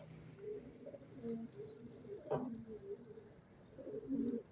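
Pigeons in a loft give soft, low coos in short repeated bursts, close by and moderately loud, with a brief louder flutter midway.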